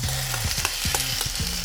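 Marinated lamb hitting a pan of softened frying onions for an Indian lamb curry with garam masala, a loud close sizzle with stirring scrapes and clinks throughout.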